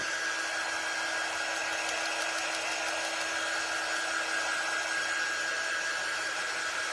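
Hair dryer blowing on painted pumpkins, a steady airy whirring hum with a constant whine, close and unchanging from start to finish, no voices.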